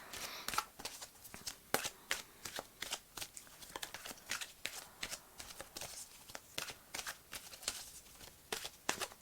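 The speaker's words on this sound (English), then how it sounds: "Now let me take a card from the Romance Angel cards." Romance Angel oracle cards being shuffled and drawn, giving a quick run of crisp, papery riffling flicks and snaps at close range, with no talking.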